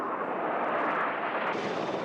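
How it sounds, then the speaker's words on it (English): A Royal Air Force Red Arrows display jet with Rolls-Royce engines roars past, a loud sustained broadband jet rush that holds steady and shifts slightly near the end. "The Royal Air Force Red Arrow's display team aircraft are powered by Rolls-Royce engines."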